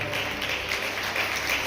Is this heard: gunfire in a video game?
no